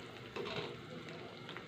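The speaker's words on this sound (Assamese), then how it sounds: "এয়া চাওক আঞ্জাখিনি ধুনীয়াকৈ উতলিব ধৰিছে মোৰ" Fish curry gravy bubbles in an open pan, a soft continuous simmer and sizzle, close and fairly quiet with a slight swell early on.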